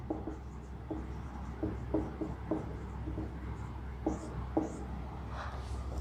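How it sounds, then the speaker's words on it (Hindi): Writing on a board is heard as a series of short scratchy strokes and taps in uneven bursts. The sound is fairly quiet against a low background hum. "यहां हम लिखते हैं एडजॉर्प्शन।"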